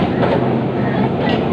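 A Kolkata tram runs along the College Street tram line, making a loud, continuous, close rumble and rolling clatter with no pause.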